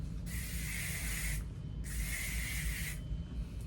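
Thermal hairspray hissing onto dry hair in two steady bursts of about a second each, close and clear over a low background hum.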